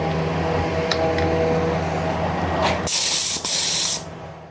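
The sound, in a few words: spray gun spraying paint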